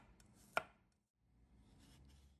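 A single sharp knife chop through garlic cloves on a cutting board, one crisp close strike followed by quiet, then faint low background noise.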